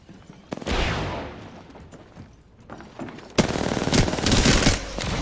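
Rapid automatic gunfire from a weapon in the video game Apex Legends, with loud bursts early on and a dense, sustained volley in the second half.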